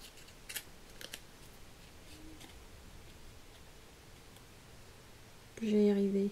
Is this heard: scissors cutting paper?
yes